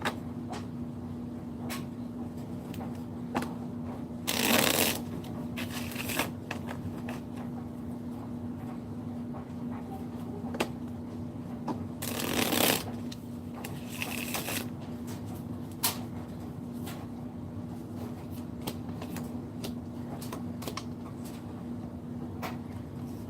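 Tarot cards are shuffled and riffled close by in repeated bursts, with a couple of louder flurries and a faint steady hum underneath.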